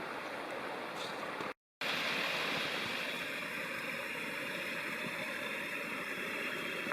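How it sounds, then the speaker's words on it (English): A small waterfall drops from Dry Lake into Bass Lake, a steady broadband rush of falling water heard from nearby with no talk, broken by a brief gap of silence. "Small waterfall dropping into Bass Lake from Dry Lake off to my left."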